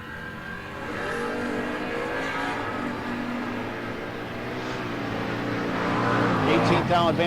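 A drag race car, a Chevelle driven by Ken Johns, races at a no-box shootout strip, its engine a sustained, moderately distant roar that climbs in pitch toward the end, with an announcer talking over it.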